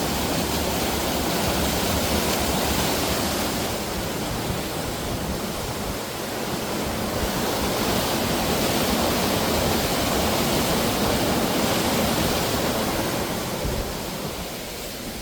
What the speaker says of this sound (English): is a bird's eye view of the waterfall.